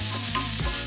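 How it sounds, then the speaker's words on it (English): Food being stirred in a hot pan gives a brief, close burst of sizzling and scraping with no voices. "give this one a stir"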